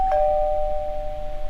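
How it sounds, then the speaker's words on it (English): A doorbell chimes in the video game Doki Doki Literature Club, one clear sustained electronic tone that rings and slowly fades, alone against a quiet background. "I hear the doorbell ring"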